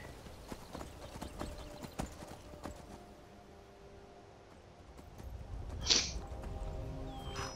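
Horse hooves in Skyrim clip-clop at a steady walking pace, fading somewhat midway, with a short bright chime and faint background music.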